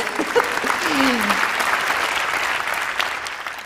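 An audience claps during a public health talk, a loud continuous spread of hands with a short cheer-like voice near the start, sustained throughout.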